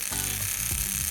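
A Tri-ang model railway mail coach mechanism driving its wheels, a close, steady electric-motor buzz with a faint grinding whir under it, lasting about a second.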